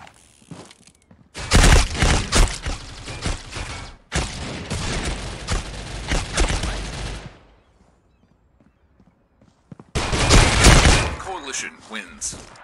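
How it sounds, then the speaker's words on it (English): Gunfire in the mobile shooter Critical Ops, loud bursts of rapid shots in two long stretches, then a pause and a final burst, with a voice talking during the shooting. "Why are you guys shooting?"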